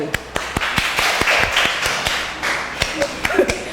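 Steady rhythmic handclaps ring out in a dance school class on Bonaire, sharp and regular over a busy room backdrop with voices and faint music.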